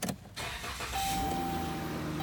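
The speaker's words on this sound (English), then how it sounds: "Start the engine." A 2017 Dodge Grand Caravan GT engine starts with a brief starter crank, then catches and settles into a smooth, steady idle hum heard from inside the cabin, with a faint whine.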